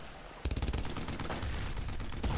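Automatic gunfire in the World War II game Brothers in Arms: Road to Hill 30 starts abruptly after a quiet moment and continues as dense, rapid bursts that run steadily to the end, with no talking.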